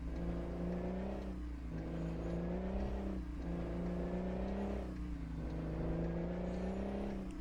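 A Mack log truck's engine in American Truck Simulator drones loud and close as it accelerates, its deep note climbing through several gears in repeated rising pulls.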